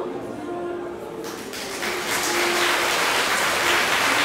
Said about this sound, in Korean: 하객 여러분께서는 큰 박수를 부탁드립니다